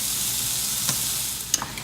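Water sizzles and hisses steadily on a hot griddle in a backyard cooking setup, a continuous bright frying crackle with a few sharper pops and spits near the end, close and alone with no talking.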